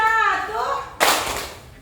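Children in a classroom clap in unison once, a single sharp, close burst of hands that follows a teacher's voice and then fades quickly.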